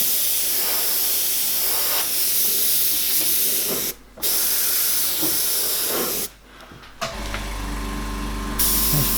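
An airbrush sprays paint in long, steady hisses to mist a night sky behind trees, close and fairly loud, broken by two brief pauses before a final burst with a lower compressor hum.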